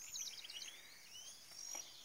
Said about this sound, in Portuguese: O barulho dos pássaros.